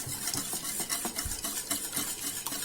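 A whisk beats flour into milk for a cheese sauce, giving a steady, rapid, rhythmic scraping and swishing close up throughout, with no voices.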